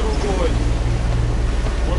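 A sailboat's motor runs with a steady low throb at sea in squally wind under a reefed mainsail, mixed with wind and water noise while a person talks over it.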